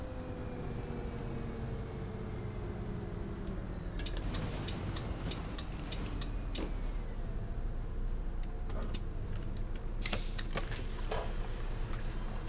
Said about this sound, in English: Sounds like this bus is absolutely about to just disintegrate.